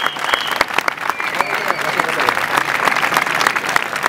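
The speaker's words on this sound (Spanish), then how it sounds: "un fort aplaudiment a elles" Loud, close applause from a crowd at a protest against co-payment charges, with dense clapping running throughout and voices and shouts mixed in under it.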